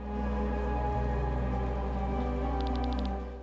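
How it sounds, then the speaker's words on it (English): Endless rain over the capital city of Taryn in the video game Chained Echoes: a steady rain hiss under a sustained tonal drone, with a short burst of rapid ticks near the end. "the main capital of Taryn, where the rain never ends"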